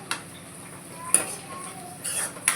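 Chili powder being stirred into a carrot fry in a pan, with a few light scrapes and clinks of a spoon against metal at intervals over a quiet background.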